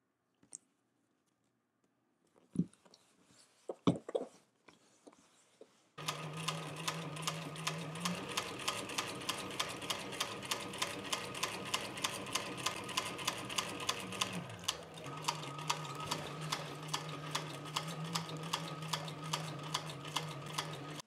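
A sewing machine stitches a leather mini tote, running in a steady, fast rhythmic chatter for about fifteen seconds with a brief pause midway, after a few sparse clicks and handling knocks at the start.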